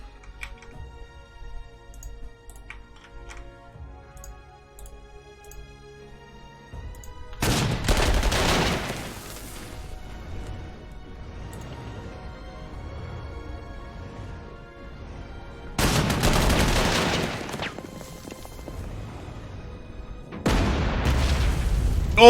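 Heavy 88 flak artillery fire in the Panzer Corps 2 strategy game: three loud, dense blasts each lasting a second or two, separated by quieter stretches of faint background music.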